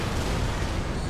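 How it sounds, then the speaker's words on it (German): An explosion in the video game Far Cry 4 is a loud, dense, continuous roar of broadband rumble that holds steady throughout without separate bangs. "Da ist was explodiert."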